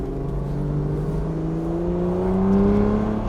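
An older Aston Martin DB9 with a long-geared automatic gearbox accelerates hard, its engine droning steadily and loudly up through the revs, with the pitch rising smoothly and no talking.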